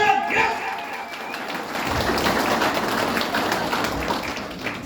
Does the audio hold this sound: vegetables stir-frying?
no